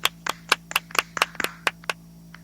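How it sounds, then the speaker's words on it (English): About ten distinct hand claps from one or two people sound on a sports talk radio show, sparse and slightly uneven, close and crisp over a faint steady hum. "Let's give everybody a round of applause for that."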